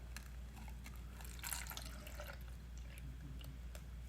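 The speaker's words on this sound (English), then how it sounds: "We're pouring it into the funnel." Vinegar poured into the funnel of a baking soda volcano makes a soft, steady trickle and faint dripping, with a slightly stronger splash partway through.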